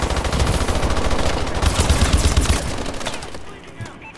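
Rapid automatic gunfire from a weapon in Call of Duty: Advanced Warfare, a dense rattling stream of close shots that continues steadily before tapering off near the end.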